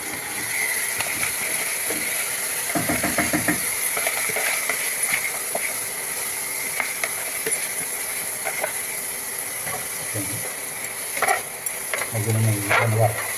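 Rice stirred and roasted in hot ghee in a pan for prawn biryani, a steady close sizzle with scraping stir strokes, a louder burst of frying near the end.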